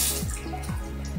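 Water drips and trickles at a sink as a makeup brush is wetted, a few soft splashy drops over a faint background, no talk.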